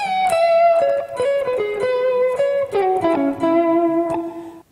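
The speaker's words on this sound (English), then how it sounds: "So let me play that whole run real quickly." Electric guitar played as a quick blues run, a steady stream of clear sustained single notes stepping downward, loud and close with no talk.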